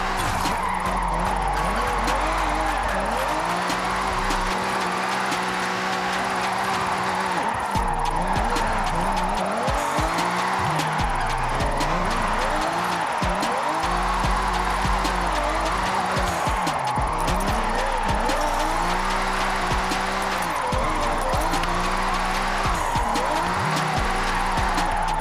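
A Toyota Chaser drift build in the racing game Forza Horizon holds a long drift, with its engine revving and falling over continuous loud tire squeal and skidding throughout.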